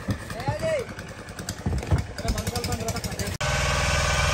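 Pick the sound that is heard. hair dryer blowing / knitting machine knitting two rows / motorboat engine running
motorboat engine running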